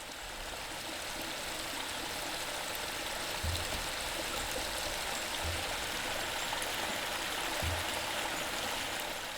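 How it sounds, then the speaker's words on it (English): Ice-cold water pours steadily over people's heads during a Tibetan practice session, a continuous splashing stream throughout with a few soft low thumps. "they start by pouring ice-cold water over their heads"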